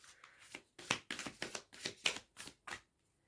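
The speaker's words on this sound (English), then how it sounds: "Let's shuffle again." A deck of cards riffled several times in quick bursts, crisp flutters close by with short pauses between, then quiet.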